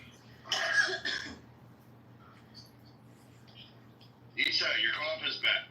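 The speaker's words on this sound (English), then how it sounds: "your cough is back" Two short bursts of coughing, close and fairly quiet, separated by a few seconds of near silence with a faint hum.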